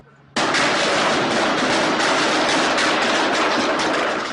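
Gunfire erupts suddenly during a police standoff after silence, a dense, loud, sustained barrage of shots that stays intense to the end.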